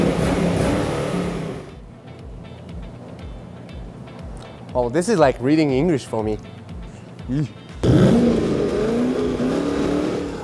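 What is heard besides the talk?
Camaro sports car engine revving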